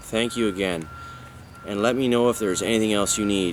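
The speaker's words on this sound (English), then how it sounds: "They're rebuilding a road, so you might hear some tractor beeping and whatnot." Steady electronic reversing beeps from construction vehicles at a road rebuilding site repeat in the background while a person speaks over them.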